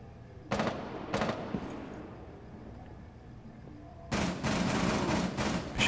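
An ACS12 automatic shotgun fires in the Rainbow Six Siege video game: two separate booming shots, a pause, then a rapid burst of heavy blasts over low background game noise.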